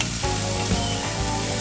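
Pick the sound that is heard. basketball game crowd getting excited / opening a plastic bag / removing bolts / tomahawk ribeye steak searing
tomahawk ribeye steak searing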